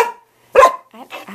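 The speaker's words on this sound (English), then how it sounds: "I don't like him barking at me." A dog weighing about 35 pounds barks at close range, one sharp loud bark followed by a couple of shorter, softer yips, with short silent gaps between them.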